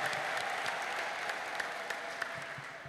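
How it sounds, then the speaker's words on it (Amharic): Clapping from a congregation at a church service, a dense, steady patter of many hands with no one speaking over it. "እልልታና ጭብጨባ አምጡ ባካችሁ"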